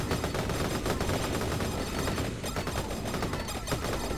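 Rapid, dense shooting from the video game Vampire Survivors, loud and continuous with barely a pause, like a machine gun firing without letting up for four seconds.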